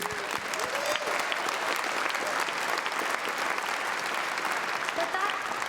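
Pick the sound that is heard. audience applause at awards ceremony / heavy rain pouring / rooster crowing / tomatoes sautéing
audience applause at awards ceremony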